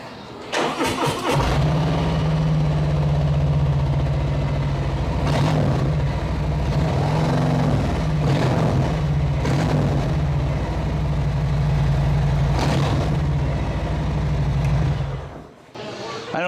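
A 2021 Harley-Davidson Street Glide with a stage 1 kit and Rinehart exhaust starts up and settles into a loud, deep, steady rumbling idle close by, with a few throttle blips, then cuts off near the end.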